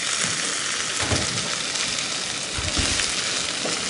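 Boiled carrot and potato pastel filling being stir-fried in a pan, giving a steady, continuous sizzle with a few soft scraping stirs, no talking.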